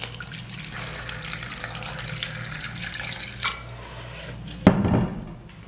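Water poured into a grinder jar holding garlic, green chillies and tomato, heard as a running trickle that grows into a brief louder splash near the end.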